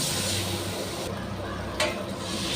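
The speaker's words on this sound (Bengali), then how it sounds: "কষিয়ে নেওয়ার পর আমি জল দিয়ে দিচ্ছি" Water poured into a pan of sizzling fried spices for a Bengali fish curry with drumsticks and potatoes, giving a steady broadband hiss that holds throughout, with a brief louder surge near the end.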